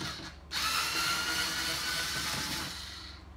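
Power drill driving out screws from an electric Vatti cooktop, a short quiet whir at first, then a sustained close motor whine for about two seconds before it winds down.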